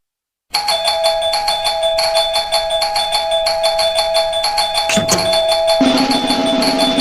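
A doorbell rings continuously and loudly for several seconds, with a steady electronic buzzing tone that shifts in pitch near the end.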